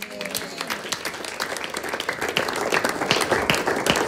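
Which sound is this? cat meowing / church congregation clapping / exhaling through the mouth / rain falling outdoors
church congregation clapping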